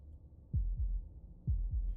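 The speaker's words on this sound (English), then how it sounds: "That was the sound of a heartbeat" Heartbeat sound effect from the video game Slay the Princess: two low, thumping double beats, a lub-dub pair near the start and another a second later, close and clear over a quiet low hum.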